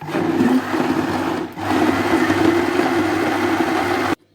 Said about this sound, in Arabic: نزود بقى كده كل ما الخلاط يمشي معانا نزود، وهنفرم بقى كده